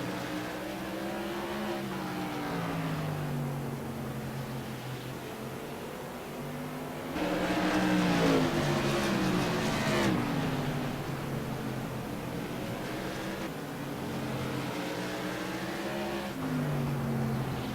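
Light modified race cars lap South Boston Speedway, their engines droning and rising in pitch as they come out of a turn and pass, with a louder surge midway, heard from a moderate distance.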